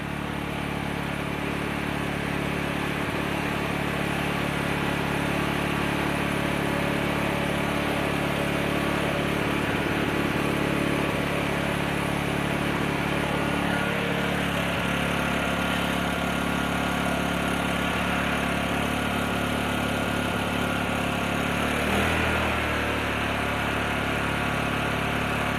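A Predator 3500 portable generator engine runs at half choke, three years on. It gives a loud, steady, close mechanical drone that holds unbroken throughout, with no voices.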